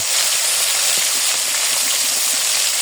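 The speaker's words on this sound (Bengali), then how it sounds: "গোস আলু ভালো করে ধুয়ে নিয়েছি, এখন ভেজে নিব" Meat and potato pieces frying in hot salted oil give off a loud, continuous hiss and sizzle, close and steady with no talking.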